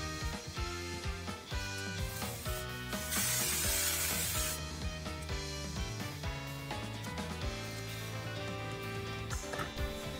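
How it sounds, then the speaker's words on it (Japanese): A short hiss of hair spray on a handmade doll's hair, used with gel to separate the strands, bursts out for about a second and a half over steady background music. "そしたらスプレーとジェルを使って束感を出していきます。"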